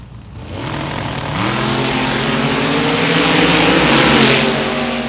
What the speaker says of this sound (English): Good drag race shaping up right here.